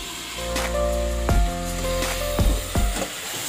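Peas and mixed vegetables sautéing with spices in a pan for vegetarian bhog khichuri: a steady close sizzle, broken by a few sharp knocks of a utensil against the pot.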